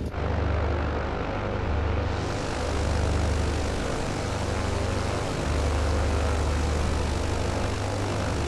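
Propeller aircraft engines run in Microsoft Flight Simulator 2020 with a constant loud droning hum and rhythmic low throb, steady throughout with no talk.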